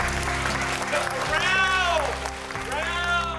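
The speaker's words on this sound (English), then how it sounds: "Give yourselves a round of applause." Applause from an audience at a faith-themed talk about bees and a honey company, a steady clapping wash over a few seconds with bright tonal sounds rising and falling above it.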